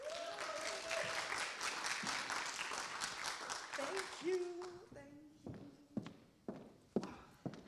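A conference audience applauds a speaker coming on stage at the Finding Your Path conference in Eindhoven. A dense burst of clapping fades after about four seconds into sharp, separate footstep-like knocks on the stage, with a brief voice between them.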